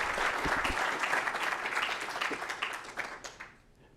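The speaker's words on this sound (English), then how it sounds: "I think we should give another round of applause for this career development." Audience members at a university hospital faculty promotion celebration applaud warmly, the clapping full at first, then thinning and fading out.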